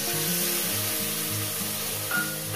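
Eggplant and spice powder sizzle steadily in a frying pan, a loud continuous hiss with low scraping stirs recurring throughout and no talking.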